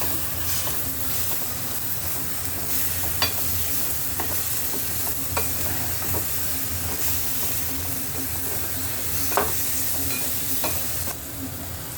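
Chopped tomatoes sizzle steadily in a hot pan for a spicy tomato chutney, a continuous frying hiss with occasional stirring scrapes and small pops, close and alone without talk.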